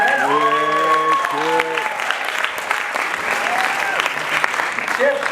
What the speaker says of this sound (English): Round of applause for Chip and the two men.